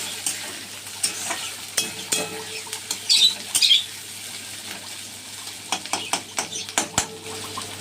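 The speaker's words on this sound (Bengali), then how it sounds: "তো ভাজা ভাজা মতো করবো এটা" Onion, red capsicum and chopped chilli frying in a pan, with steady sizzle under repeated scraping and stirring strokes of a spatula, some sharper clinks of utensil against metal, close and moderately loud.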